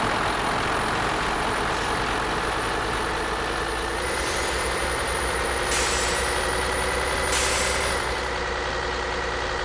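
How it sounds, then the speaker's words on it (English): A 1020 HP Kenworth truck engine in Euro Truck Simulator 2 held at about one-third throttle, a loud steady low drone that sounds almost like idling, with two short hissing bursts late on. "It sounds like I'm idling. I'm really not. I'm just on the throttle about a third only."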